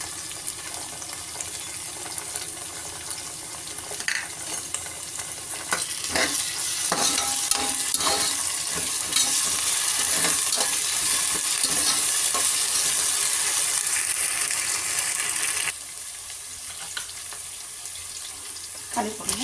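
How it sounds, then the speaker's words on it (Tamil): Onion sizzles and is stirred with ginger garlic paste in a pan for veg biryani, a steady frying hiss with scraping stirs, brief running water and some talking in the background. "நல்லா வதங்கணும் வெங்காயம். இப்போ இஞ்சி பூண்டு பேஸ்ட் போடணும்."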